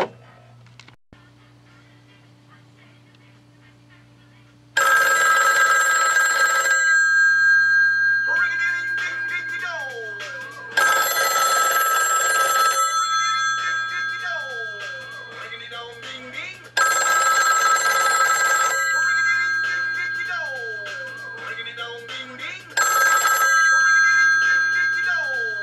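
A vintage Northern Telecom rotary dial wall telephone rings loudly with a metallic bell, four long ringing bursts spaced several seconds apart, with quieter ringing and a steady low hum between them.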